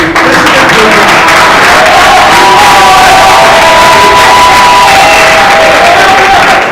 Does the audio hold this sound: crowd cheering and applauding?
yes